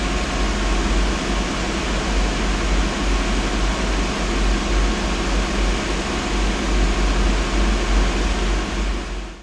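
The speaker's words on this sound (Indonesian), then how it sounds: "ini dibayarkan dengan suara kipas yang pastinya sangat bising sekali" Ten high-RPM PC case fans spinning at up to 3000 RPM inside an AMD build, a loud, steady broadband whoosh of rushing air that holds constant throughout with no breaks.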